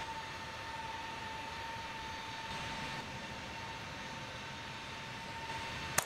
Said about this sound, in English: Taxiing onto the runway now.